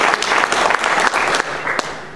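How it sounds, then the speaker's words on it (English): A crowd at a Greater New Orleans quarterback club gathering gives Coach Tony Hall loud, close applause, with bursts of clapping that ease off slightly toward the end. "a round of applause and congratulations to Coach Tony Hall."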